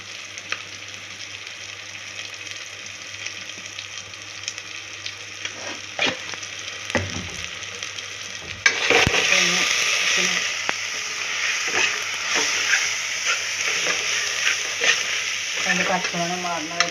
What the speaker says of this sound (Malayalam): അതിൻ്റെ പച്ചമണം മാറുന്ന വരെ ഒന്ന് ഇളക്കി കൊടുക്കുക